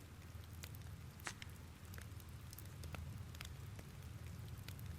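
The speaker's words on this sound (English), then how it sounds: "It'd be nice if the rain let up soon." Steady rainfall in the Exist Archive game, a dense, even hiss of drops with occasional louder spatters and a low rumble underneath.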